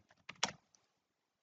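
Someone types code on a computer keyboard in short quiet bursts of keystrokes, a few clustered taps then a pause, close and faint.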